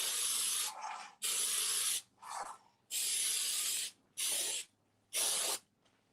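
Cooking oil sprays onto a cake pan in five or six loud, close hissing bursts, each about half a second to a second long, separated by short pauses with quieter rustling between them.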